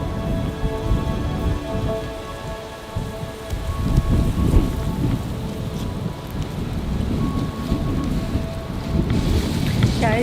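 Steady rain patters and hisses on surfaces, with a low rumble that suggests distant thunder, while a soft sustained musical tone hums quietly underneath.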